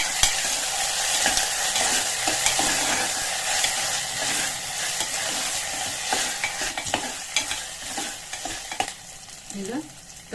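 Onion with ginger-garlic paste fries and gets stirred in a pan for an aloo baingan sabji, a continuous close sizzle broken by scraping stirring strokes, with no talking.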